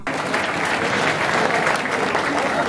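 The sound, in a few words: audience applause welcoming a guest on stage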